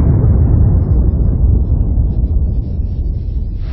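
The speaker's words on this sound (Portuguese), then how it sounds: "porque a bomba explodiu no colo dele." A bomb going off during the 1981 Riocentro attack: a loud, sustained, deep roaring rumble that holds steady for several seconds and eases off slightly toward the end, with no voices.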